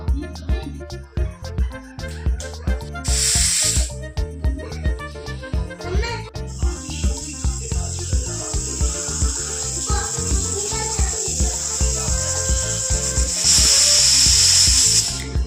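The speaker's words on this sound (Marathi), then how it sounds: "कुकरच्या 3 शिट्ट्या घ्याव्यात।" A pressure cooker boiling potatoes for aloo paratha releases two sharp, bright hisses of steam, one brief and one longer, over a busy rhythmic background of music and knocking sounds.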